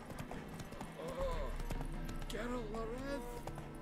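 Hooves of the horse Roach clip-clop at a steady trot in The Witcher 3, set in a game world. The rhythm stays even and moderately close, with a brief whinny and talk running over it.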